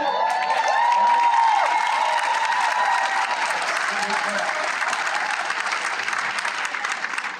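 A crowd claps and cheers at a US Air Force JAG Corps promotion ceremony for a colonel, with continuous applause and a few whoops and raised voices over it, loud and sustained.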